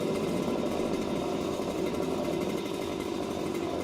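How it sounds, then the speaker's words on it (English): A string trimmer head spins at full speed, giving a steady, loud, buzzing engine whine that holds without a break and has no talking over it. "I want to tap the trimmer head while it's spinning on something solid like concrete"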